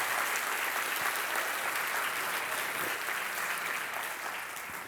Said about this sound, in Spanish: Si va a aplaudir, apláudale fuerte al Rey de Reyes